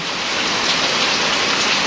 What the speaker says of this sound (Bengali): প্রচণ্ড পরিমাণ বৃষ্টি হচ্ছে